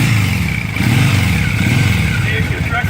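A Triumph Thruxton 900 motorcycle engine, a 2016 model, fires up and runs with a loud, steady mechanical rumble that swells slightly just under a second in and holds close and constant.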